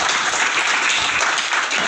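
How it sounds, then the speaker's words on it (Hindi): Loud, continuous applause fills the hall from a conference audience at a Shaktirveda gathering in Ambala, a dense steady wash of many hands with no break. "इनके लिए भी एक बार जोरदार तालियां।"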